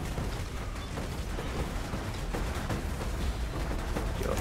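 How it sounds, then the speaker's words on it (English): Rapid chained explosions from thrown totems in Path of Exile, a dense crackling, popping barrage of small blasts and mechanical clatter running steadily throughout at moderate loudness, with no talk. "and things explode"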